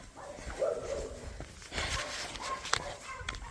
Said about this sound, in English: I don't know if you can hear them dogs or not, but they are going off on each other right now.